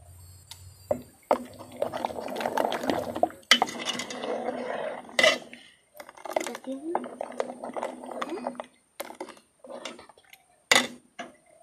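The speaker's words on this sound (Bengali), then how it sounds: "এবার মিশ্রণটা আমরা নাড়িয়ে দেব।" A spoon stirring mango pudding mixture in a pot, scattered clinks and scrapes against the pot's sides coming in irregular bursts while a person talks over much of it.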